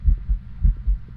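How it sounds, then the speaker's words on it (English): Heartbeat sound effect in the ghost-hunting game Phasmophobia: deep, muffled double thumps in a steady rhythm, loud and close, repeating about twice per second with no speech. "I got the heartbeat."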